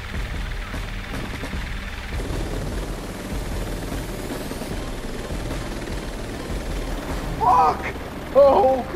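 A large drone hovers in Watch Dogs 2, a steady droning rotor whir holding throughout at moderate level, with brief voice-like bursts near the end.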